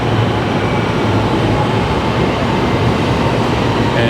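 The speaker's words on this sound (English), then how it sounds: "My train is arriving" A Kuala Lumpur MRT/LRT metro train arrives heading toward Sentul Timur, a loud, steady broadband rumble and rush filling the platform nearby without pause or voices.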